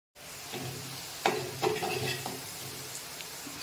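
Red chili powder, turmeric and garam masala sautéed in hot oil with browned garlic for a crab curry, giving a steady close sizzle with a few stirring scrapes and clinks, no talking.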